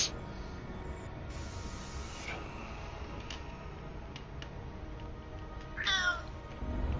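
A pet cat gives a single short meow near the end, close and clear above a quiet room hum, preceded by faint ticks and stillness.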